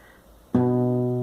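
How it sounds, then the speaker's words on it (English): Plucked acoustic guitar notes ring out together after a quiet start, a single clear attack with sustained harmonics that slowly decay, close and alone without voices. "And I pluck the same notes with my right hand."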